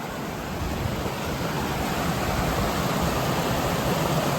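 The Carabas River rushes past a hiking trail on the Appalachian Trail between Stratton and Rangeley, a steady, broad wash of flowing water heard close and continuous with no voices.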